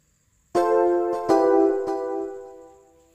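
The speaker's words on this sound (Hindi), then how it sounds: "इसके बाद आता है इलेक्ट्रिक पियानो।" Three chords on the electric piano tone of the Perfect Piano app struck in turn, warm and sustained, ringing out and slowly fading, with nothing else around them.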